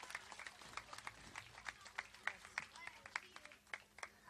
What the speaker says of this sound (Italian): un applauso a Pasquale Claudio Bianco